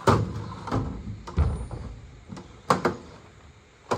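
Several sharp clunks and scraping slides of a metal drawer in a vintage Craftsman toolbox, with bursts spaced irregularly over a few seconds, fairly close and moderately loud.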